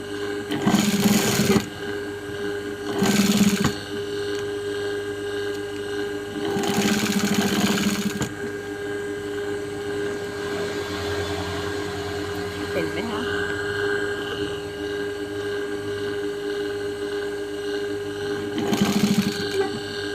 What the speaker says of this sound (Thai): ก็จะเย็บตามรอยนะคะทีเนี้ย